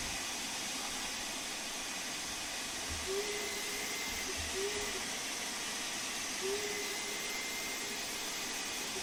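A steam locomotive's vacuum brake ejector hisses in a steady, even rush in Train Sim World 2, with a few faint tonal whistles rising briefly over the constant noise.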